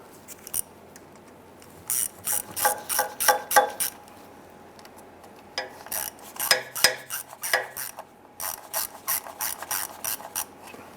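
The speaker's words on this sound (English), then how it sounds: "I'm just going to go ahead and run all of these in and just snug them down." A ratchet spinning in the transmission pan bolts on a Chrysler 300, rapid metallic clicking in bursts separated by short pauses, close and clear with no talking.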